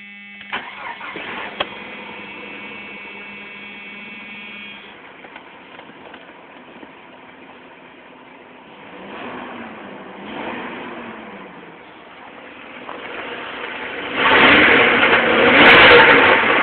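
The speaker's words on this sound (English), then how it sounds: "Let's start her up with a nice little key here." A 1995 Jeep Cherokee with high mileage cranks on the key and fires up, settling into a muffled idle before two surges of revving near the end, fairly close and with no talk.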